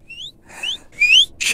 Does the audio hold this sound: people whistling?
yes